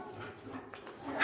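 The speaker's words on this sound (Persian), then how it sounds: "ولی اینا سگای خوش صدایی هم هستن" Dogs make soft yelps and whimpers at moderate distance, with a louder bark-like burst near the end, over a low background murmur.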